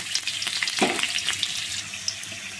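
Whole green chilies frying in oil give off a fairly quiet, steady sizzle with light crackles and a brief louder burst early on, close by with no voices.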